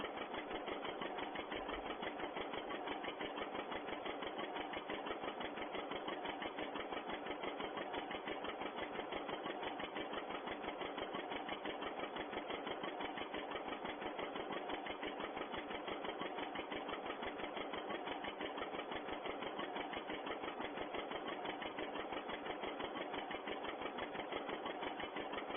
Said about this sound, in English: This tractor, nice little popping sound